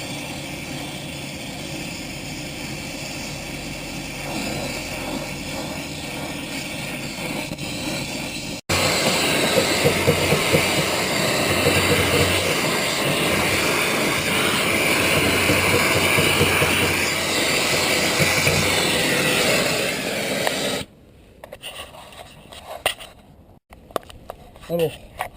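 A big-nozzle gas torch roars steadily as it heats a seized drum brake red hot, the loud broadband hiss swelling when the flame intensifies, then cutting off into quieter clanks near the end.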